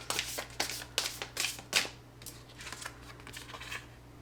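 Tarot cards being shuffled and drawn, with rapid papery riffles and snaps in quick bursts that thin out into softer, sparser card sounds over a low background hum.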